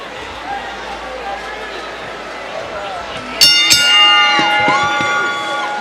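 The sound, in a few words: boxing arena crowd cheering in a frenzy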